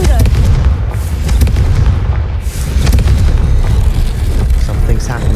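Confringo blasting spell from Hogwarts Legacy, booming fire blasts erupting in dense, loud bursts over a continuous rumble, with a voice calling out amid the game action.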